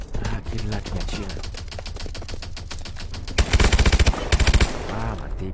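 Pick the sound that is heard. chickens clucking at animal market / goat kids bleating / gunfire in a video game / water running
gunfire in a video game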